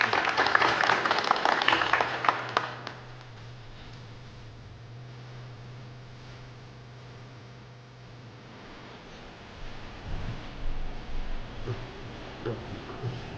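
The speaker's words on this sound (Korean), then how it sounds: "대한약학회 김형식 회장님, 박수로 맞이해 주시면 저희가 축사를 청해드릴 수 있을 것 같습니다." Audience applause at an award ceremony for a researcher prize, a loud burst of clapping in the first few seconds that fades to a quiet room hum, with faint movement and murmurs later.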